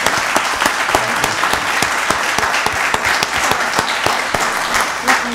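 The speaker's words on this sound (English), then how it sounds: "Give her another round of applause." A round of applause at a county board of commissioners meeting, a steady wash of many hands clapping from a seated audience, fairly loud and continuous with a few sharper claps standing out.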